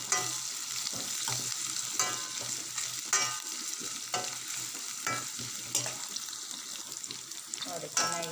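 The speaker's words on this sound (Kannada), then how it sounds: "ಈರುಳ್ಳಿ, ಕಾಯಿಮೆಣಸು, ಶುಂಠಿ ಚೆನ್ನಾಗಿ ಫ್ರೈ ಮಾಡಬೇಕು." Onion, green chilli and ginger frying in a pan with steady, bright sizzling and repeated stirring scrapes at a regular rhythm, close and fairly loud throughout.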